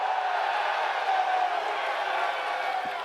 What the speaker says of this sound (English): We got a loud crowd.